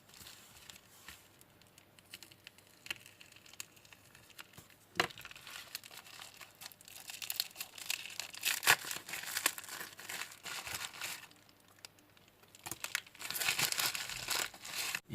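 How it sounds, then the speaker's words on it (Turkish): A small AliExpress package holding magnetic reed switch sensors is opened by hand, giving quiet, close crinkling and rustling of the wrapping, with a few sharp taps and busier crackling bursts toward the middle and end. "İsterseniz önce şu küçük paketi bir açalım."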